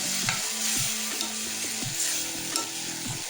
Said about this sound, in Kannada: ಈಗ ಅದ್ರಾಗ ಬೆಳ್ಳುಳ್ಳಿ ಪೇಸ್ಟ್, ಹಸಿ ಶುಂಠಿ ಬೆಳ್ಳುಳ್ಳಿ ಪೇಸ್ಟ್ ಹಾಕ್ಕೋತೀನಿ ರೀ. ಇದೆಲ್ಲ ಚೆಂದಾಗಿ ಫ್ರೈ ಮಾಡ್ಕೋತೀನಿ.